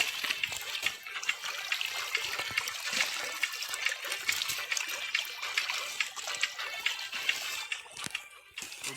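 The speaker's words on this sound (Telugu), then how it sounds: "కాలువ నీట్గా చేస్తే ఈ విధంగా స్పీడ్గా వాటర్ అనేది వస్తుంది" Water flows fast through a freshly cleaned irrigation canal, a steady close rushing and gurgling trickle that continues throughout without talk.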